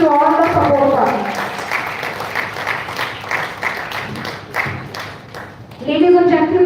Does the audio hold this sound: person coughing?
no